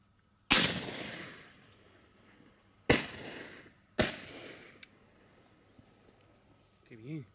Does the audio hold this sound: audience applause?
no